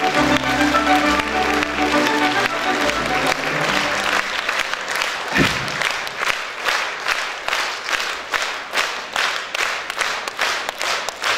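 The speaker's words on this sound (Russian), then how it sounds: "Ваши бурные аплодисменты – это действительно тот знак признания такому прекрасному творческому коллективу" Enthusiastic audience applause at a celebratory concert honouring a performing ensemble. Dense, loud clapping fills the whole stretch, with music fading out underneath in the first seconds before the clapping carries on alone in a steady rhythm.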